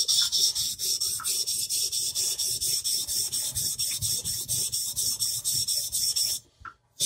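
A wide bevel knife is stroked steadily over a sharpening stone to thin the edge, giving rapid rhythmic rasping scrapes, close and even, that stop abruptly near the end.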